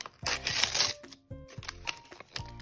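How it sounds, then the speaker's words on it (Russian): A collectible toy packet being torn open by hand, close-up crinkling and rustling of foil plastic in short bursts with brief pauses between. "Давай сейчас откроем вот этот пакетик."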